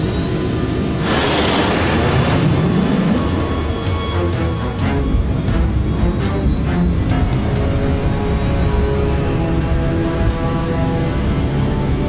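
Airliner jet engines spooling up to takeoff thrust on a runway, a continuous loud roar with a rising whine that climbs steadily in pitch across the whole stretch.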